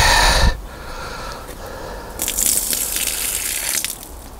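Well water gushing and splashing from a drilled borehole in a suburban garden, a steady broadband rush that swells louder about halfway through after a brief thump at the start.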